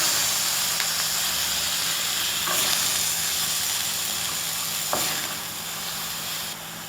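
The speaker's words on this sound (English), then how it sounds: "So now I'm going to put in the ground beef." Ground beef frying in oil in a pot on the stove, with a steady close sizzle and hiss throughout and a couple of faint stirring scrapes.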